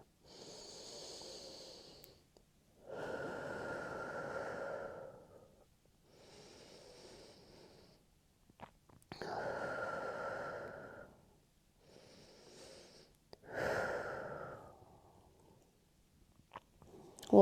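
Slow, deep breaths in a child's pose yoga flow, with about five close, audible inhale-and-exhale cycles separated by short quiet pauses.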